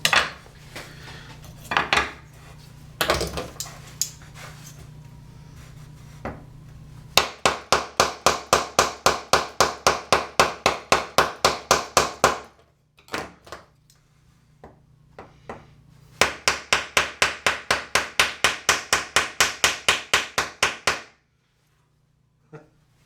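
Knives of HAP-40 and CPM M4 steel whacking in a toughness test, in two long runs of rapid, evenly spaced sharp impacts, with a few scattered knocks between and no talking.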